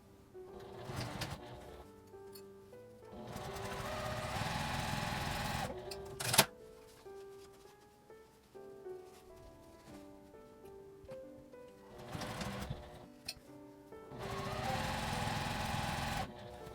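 Short runs of a home sewing machine stitching fabric for a small flap mini pouch, four or so bursts with pauses between, fairly quiet under soft background music.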